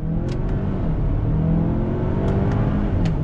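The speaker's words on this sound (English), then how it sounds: "So definitely with the paddles, I'm getting a quicker acceleration" A 2021 Kia Sorento X-Line SUV accelerates in low gear using paddle shifters, the engine droning and rising steadily from inside the cabin, with a few faint clicks.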